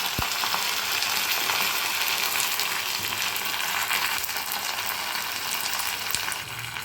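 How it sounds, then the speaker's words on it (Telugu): Cumin, dried chillies, curry leaves and asafoetida sizzle in hot oil for a tempering, a loud, steady, close crackling hiss that runs without a break. "బాగా వేగిపోయింది కదండి."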